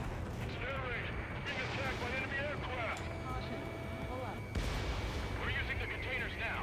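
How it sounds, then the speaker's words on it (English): Guided bombs strike ground targets in the flight combat game Ace Combat 7: Skies Unknown, producing a dense wash of rumbling blasts and booming impacts over constant jet engine roar, with a player talking over the action. "Just gonna drop a few guided bombs on those."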